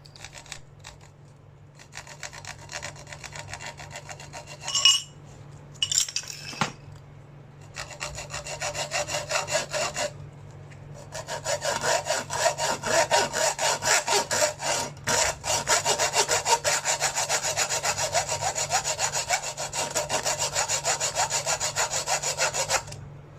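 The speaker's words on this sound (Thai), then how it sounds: "ตำแหน่งที่ต้องการก็เอาเลื่อยมาตัดได้เลยนะครับ" A hand saw rasps back and forth in steady strokes cutting a gun part, starting in short bursts with a couple of knocks, then settling into a long, fast, even rhythm.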